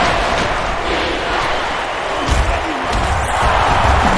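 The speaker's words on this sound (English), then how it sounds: "This crowd is almost shaking the stadium." A stadium crowd roars in the NCAA Football 10 video game during a Florida Gators vs. Alabama Crimson Tide matchup, a dense, steady wall of loud cheering throughout, with a brief swell near the middle.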